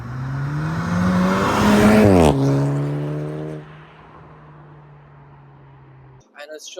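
A 2015 Volkswagen Polo GTI with a 1.8 TSI engine revs hard, rising through a climbing whine and gear steps to a peak, then settling to a steady drone before dropping away.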